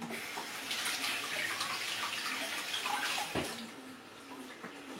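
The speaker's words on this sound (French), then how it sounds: "Je vais juste me laver les mains et je vous reviens." Running tap water pours steadily as hands are washed in a kitchen during cooking, a soft continuous splashing hiss, fairly faint, with small shifts as the hands move under the stream.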